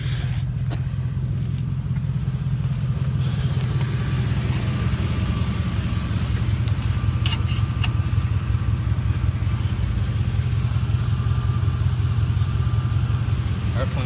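A 1966 Chevy C60 semi truck, long left sitting, has its engine running or cranking steadily at close range with a low, rumbling drone throughout, while someone talks over it.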